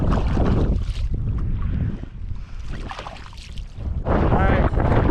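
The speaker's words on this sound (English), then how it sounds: "Wind is picking up." Wind gusts over open water while out kayak fishing, a steady broadband rush that is loud throughout, dipping slightly in the middle before surging again, with a voice speaking under it.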